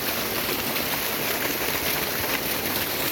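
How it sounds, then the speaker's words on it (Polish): An electric water pump motor drawing groundwater from underground in an Indian rice-growing village gives a steady, loud broadband whir with a constant hiss-like texture and no pauses, heard up close and alone. "I to jest właśnie ten silnik, który wysysa tą wodę z podziemi."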